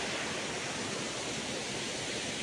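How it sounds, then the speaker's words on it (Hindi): Rushing roar of the Tulsi waterfall swollen after rain, a steady broadband wash of falling water with no pauses, fairly close and even in loudness throughout. "देख सकते तुलसी जलप्रपात का बहुत ही खूबसूरत नज़ारा, बहुत ही खूबसूरत झरने"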